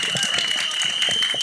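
An audience at a film trailer launch event applauds, a dense continuous wash of many hands clapping in a large hall, with a voice speaking over it.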